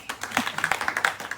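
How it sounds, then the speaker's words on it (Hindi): An audience at a street magician's show claps hands in a quick, steady rhythm of sharp slaps, fairly close, with voices faintly underneath. "ताली बजाओ।"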